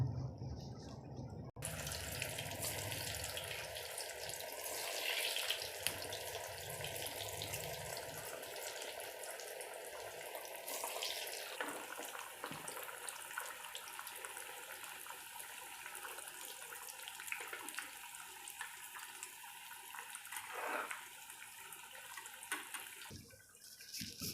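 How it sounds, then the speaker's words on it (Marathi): Colocasia leaf rolls of alu vadi fry in hot oil over low gas, giving a steady, moderately loud hiss and bubbling that runs throughout. "चला मग आता आपण तळून घेऊ."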